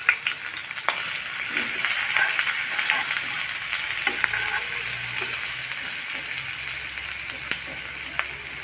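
Ginger garlic paste sizzling in hot oil in a pan for tawa chicken, a steady broadband frying hiss with scattered scraping stirs and a few sharp clicks of the spoon, close and alone.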